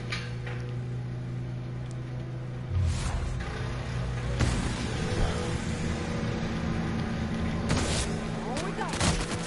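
Shotgun blasts in the game The Outer Worlds: a few sharp, booming shots spaced seconds apart ring out over a busy background of game noise.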